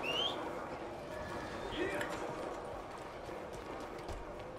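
Horse hooves clip-clop on a street in Red Dead Redemption 2, a steady muffled rhythm of a black horse's steps running under continuous game ambience with faint bird calls.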